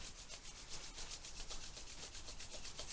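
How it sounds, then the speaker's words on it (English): Two hands rub briskly together during a Kundalini yoga practice, making a soft, rhythmic swishing friction that repeats steadily and quietly throughout. "let's rub the hands together"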